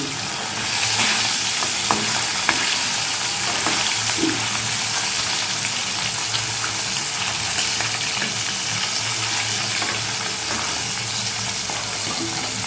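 Fish fry in hot oil with a loud, steady crackling sizzle that carries on throughout, with a few faint clinks and a little quiet background chatter.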